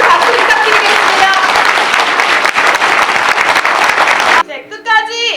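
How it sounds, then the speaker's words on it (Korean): Audience in a cinema applauding after a film talk, loud dense clapping close by, with a voice briefly speaking over the tail end. "우리 가족분들께 큰 박수 부탁드리겠습니다"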